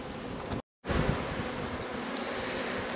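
Bees buzz at an open hive full of hawthorn honey, stacked with supers. The buzz is dense, steady and close, broken by one brief gap.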